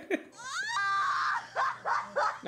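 A woman screams loudly in a comedy film scene, shrill wavering cries rising and falling over about two seconds, then breaking into short repeated bursts.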